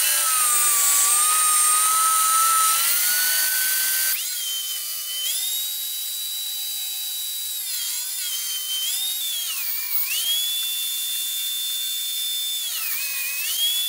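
Power tool cutting strips of walnut and cherry wood for a kitchen utensil holder, a loud steady high-pitched whine that shifts pitch as the blade loads and unloads, close and continuous with no talking.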